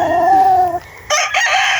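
A rooster on a clean, spacious chicken farm lets out one loud, close crow with a long held first part, then a short break and a harsher, higher final burst.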